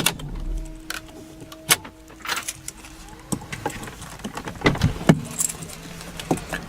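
The power window motor of a 2012 Porsche Cayenne GTS hums steadily as the window closes the rest of the way. A few clicks and knocks from inside the cabin cut through, then it stops.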